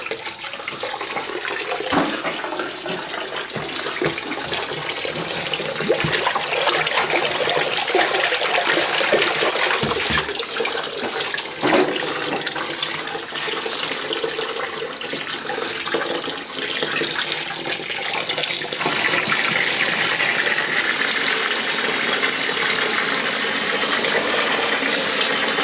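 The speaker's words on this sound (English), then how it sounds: "You guys can actually see the water's draining already." Water draining from a clogged laundry sink, a steady loud rushing and gurgling flow that continues alone throughout.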